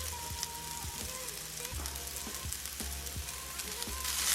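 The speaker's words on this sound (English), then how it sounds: "So first of all, what I'm gonna do is cook mushrooms. I'm gonna add the mushrooms," Mushrooms added to a hot pan, a soft sizzle with scattered clicks and knocks of pan handling, fairly faint and close, rising slightly toward the end.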